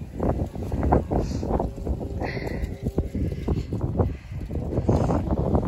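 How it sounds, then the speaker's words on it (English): Strong wind from the Los Angeles fires gusts steadily around homes in Glendale, California, a continuous roaring rush with buffeting against the microphone and some rustling, loud throughout with no talking. "The wind's picking up again too."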